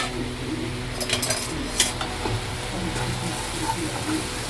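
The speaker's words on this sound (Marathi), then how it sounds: "इथे पॅन ठेवला आहे, थोडं पनीर टॉस करून घेते." Paneer tossed in a pan sizzles and fries steadily, with a few metallic clinks of a utensil against the pan rising above the hiss.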